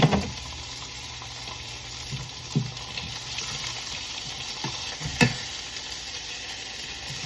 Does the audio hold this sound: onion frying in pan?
yes